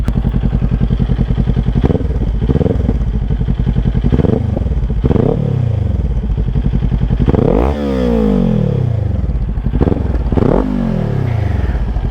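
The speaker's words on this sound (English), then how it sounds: "It's that classic parallel twin sound." A warm Kawasaki Ninja 400 parallel-twin motorcycle revved through its exhaust, loud and close, with repeated sharp blips rising and falling over a steady idle burble, with no talking.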